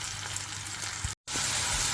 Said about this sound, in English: I'm just going to continue frying these off until they're all soft